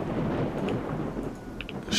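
Thunder rolls through a rainy storm in the game STALKER: Shadow of Chernobyl, a low, continuous rumble over hissing rain, with a brief brighter crack near the end.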